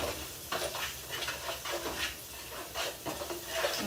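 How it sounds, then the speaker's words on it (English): Spices (cumin, red pepper flakes and salt) being stirred into sweet potato hash in a hot pan: soft scraping and scuffing strokes with a faint sizzle, close and quiet, no talking. "So I'm going to stir those in."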